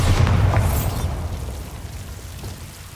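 Bombarda blasting spell from Hogwarts Legacy going off as a single loud, deep boom that rolls out and fades slowly over a few seconds, with no voices.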